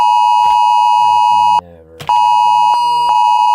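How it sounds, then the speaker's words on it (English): A household fire alarm beeps in a loud, steady high-pitched tone, briefly cut off and then resuming, set off during a smartphone durability test on a Google Pixel 10 Pro Fold. "my fire alarm is going off"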